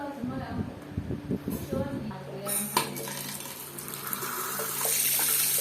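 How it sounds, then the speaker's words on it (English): A newly installed water tap on a bathroom basin opens, and water rushes steadily into the basin after some clinks and handling noises, with a voice speaking briefly at the start. "Turn on the valve and check the flow."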